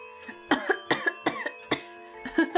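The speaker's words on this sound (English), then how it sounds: "In his excitement, he starts coughing." A man coughs repeatedly, five or six harsh, evenly spaced coughs close up, with faint game music humming underneath; a character coughing in the video game Spirit Hunter: Death Mark.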